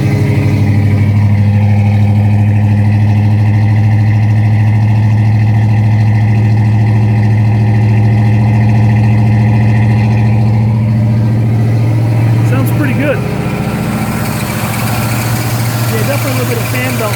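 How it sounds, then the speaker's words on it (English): A 1965 Pontiac Catalina 2+2 with a 421 engine runs with fan belt noise, a loud steady drone with a persistent hum and faint whirring overtone, shifting slightly near the end. "Definitely a little bit of fan belt noise."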